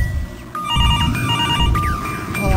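A telephone rings in the Spoopy Mr Hopp's Playhouse video game, repeated electronic bell trills over a low rumbling ambient background, loud and close.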